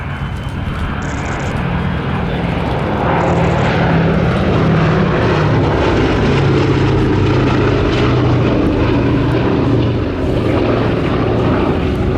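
Multiple propeller engines drone loudly and continuously overhead, a heavy, throbbing roar of a Boeing B-17 Flying Fortress bomber in flight at an air show.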